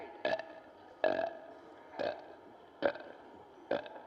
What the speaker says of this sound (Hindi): नकली डकार लें, असली डकार आ जाएगी।